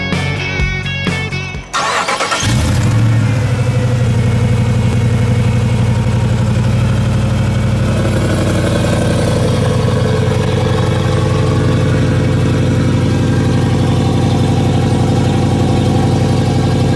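A 2014 Jeep Wrangler JKU Sport with a Hemi engine cranks and fires up, then settles into a loud, steady idle with a deep, throaty open-exhaust rumble.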